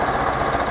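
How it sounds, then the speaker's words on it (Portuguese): A Yamaha FZ15 motorcycle fitted with a 190cc kit idles at a low, steady rumble, close and continuous, with no voices. "Olha essa marcha lentinha."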